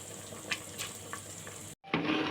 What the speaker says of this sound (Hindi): और मैं 1 गिलास पानी डालूंगी इसमें।